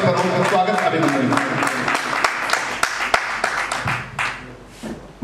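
A stage audience claps loudly to welcome a singer, dense steady applause that slowly thins toward the end, with a voice speaking over it.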